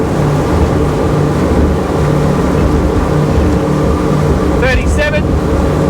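An Aquila Molokai power boat runs at wide open throttle on the ocean with a loud, steady engine roar and water rush. A brief chirp of another sound cuts in near the end.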